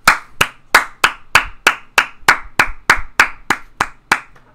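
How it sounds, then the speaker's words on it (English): A single person claps about a dozen times in a steady, evenly spaced rhythm, loud and close, with nothing else in the background. "I'm the only one clapping."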